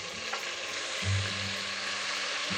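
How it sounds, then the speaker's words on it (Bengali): Green chili paste with ground coriander and spices sizzles loudly and continuously in a pan, with a low stirring rumble beneath the bright frying hiss and no talk. "সুন্দর করে কষিয়ে নিচ্ছি"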